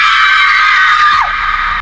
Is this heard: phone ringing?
no